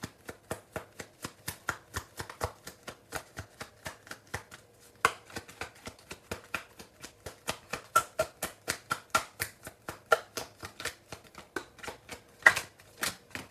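Tarot cards are shuffled by hand close up: a long run of quick, crisp slaps and riffles that repeat at a steady rhythm with brief pauses, fairly quiet and without talk.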